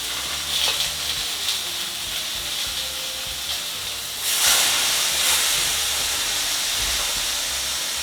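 Continuous crackling sizzle of meat frying in a hot pan, close by, with a sudden louder burst of hissing midway that settles back into steady spitting.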